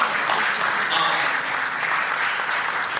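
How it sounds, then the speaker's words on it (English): A conference audience at the Resurgent Conference breaks into dense, continuous applause that fills the room evenly from start to finish, many hands clapping together at moderate distance. "you don't have to applaud, you can, it's fine"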